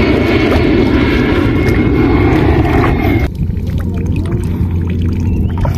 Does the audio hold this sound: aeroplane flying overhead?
yes